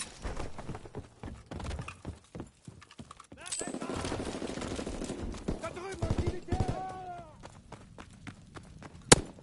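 Gunfire from a WW2 shooter video game: bursts of automatic fire and single shots crackle throughout, with horse-like clopping and a sharp loud blast near the end, under radio-style voices.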